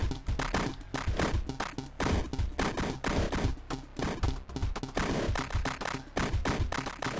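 A gun blasting at crowds of enemies in the indie video game Children of Apollo: rapid, loud, closely packed shots pounding continuously through the whole stretch.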